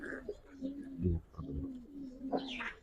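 A Giribaz homing pigeon in a loft gives several soft, low cooing calls in short rhythmic bursts, close by, with someone talking at intervals.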